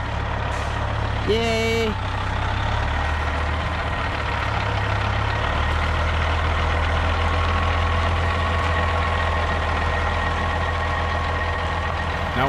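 A truck towing a trailer reverses with a steady engine drone, and a short burst of backup beeps sounds early on. A person briefly cheers near the start.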